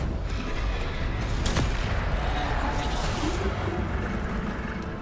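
Bombarda spell explosions in Hogwarts Legacy: a dense, continuous roar of booming blasts with one sharp crack standing out, loud and unbroken from start to finish.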